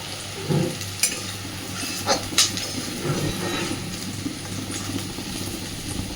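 Fried onions are scooped out of hot oil in a pan with a steady sizzle and a few sharp clinks and scrapes of the utensil against the metal.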